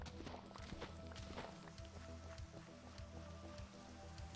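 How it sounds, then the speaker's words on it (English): Rain patters steadily in the Minecraft video game, a faint, continuous hiss of scattered drops with light footsteps mixed in. "I do not mess around with rain."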